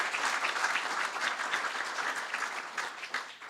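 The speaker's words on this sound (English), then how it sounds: "let's give a big applause to our ambassadors and volunteers" Audience applause for ambassadors and volunteers at a city annual update: steady, dense clapping from a sizeable crowd throughout, fairly close and even.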